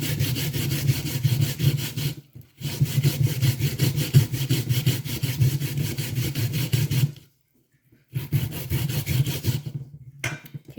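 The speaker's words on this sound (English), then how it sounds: "I'm finished grating the cassava and the sweet potato." Cassava and sweet potato grated by hand on a grater, a steady rhythmic rasping scrape that runs continuously, breaks off briefly, resumes, then stops and starts again near the end.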